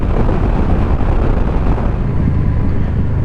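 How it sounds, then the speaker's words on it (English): Loud, constant wind buffeting roars against the microphone while riding a Honda VFR800F motorcycle, a dense rumbling rush with no speech. "It's 19 degrees, very windy, but let's cut through that air."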